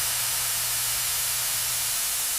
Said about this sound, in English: Inside the furnace, bagasse burns fiercely, generating the steam that powers the entire operation.